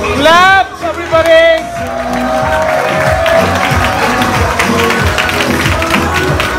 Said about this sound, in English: Okay, everybody, make some noise. Woo! Clap, everybody.